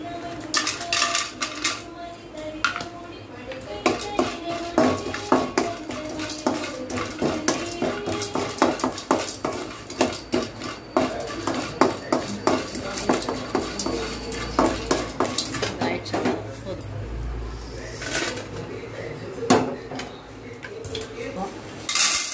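Whole spices dry roasted in a pan for homemade garam masala, with busy rhythmic scraping and rattling of a metal spoon against the pan, the clatter continuing steadily throughout.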